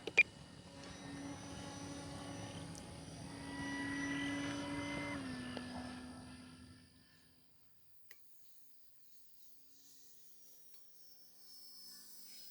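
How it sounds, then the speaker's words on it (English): A small electric RC flat foam 3D airplane of about 800mm span flies overhead, its steady motor and propeller whine rising and then fading into the distance until near silence. "The aircraft might be pulling up slightly."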